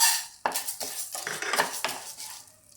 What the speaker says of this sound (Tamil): இப்போ உளுத்த பருப்பு போடுறேன்